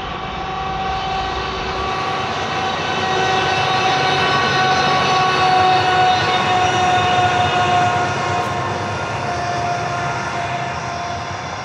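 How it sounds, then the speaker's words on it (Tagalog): A long freight train loaded with logs rolls past in cold, wooded countryside, a steady broad rumble with tonal hum that swells slightly mid-pass and carries on without break; no one speaks. "That's the train carrying logs or woods."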